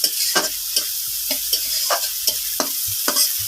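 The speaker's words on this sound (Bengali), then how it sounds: "দেখো, আমার চিংড়িটা ভাজি হচ্ছে" Shrimp sizzle in a pan with a bright, constant crackle close by, while a spatula moves them around in repeated quick scrapes and taps.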